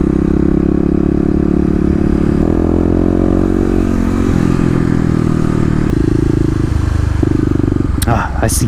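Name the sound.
Kawasaki KLX250 dual sport motorcycle riding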